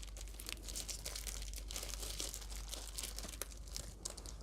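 Packaging from a Uhuru Bluetooth keyboard being unboxed, with continuous close crinkling and rustling of plastic wrap, sharp crackles and light tearing over a low steady hum, no talking.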